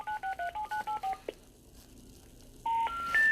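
A phone number is dialed on a telephone keypad, giving a quick run of about nine even touch-tone beeps, then a short silence, followed by rising special-information tones that signal a disconnected line. The tones are clear and close, with no talking.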